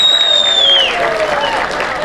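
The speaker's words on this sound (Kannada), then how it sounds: "ಜೋರ್ ಚಪ್ಪಾಳೆ ಬರಬೇಕು ನಮ್ಮ ರಘುಗೋಸ್ಕರ" Loud crowd applause at a horror-movie event, a broad wash of clapping from an audience over about two seconds, with a faint tonal sound sliding down near the start.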